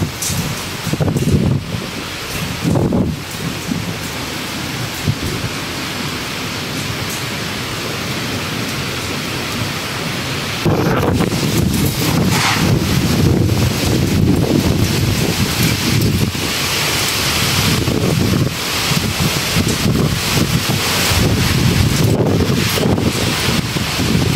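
Heavy rain pours in a dense, continuous roar during a storm that damaged a roof, growing louder partway through, with gusts of wind rumbling against the microphone.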